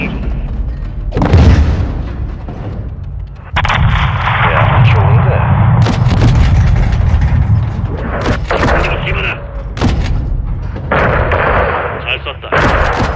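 An air strike slams into a gas station held by cartel gunmen in a military video game. Several loud, deep booming explosions and rumbling impacts roll on for many seconds, with voices at times underneath.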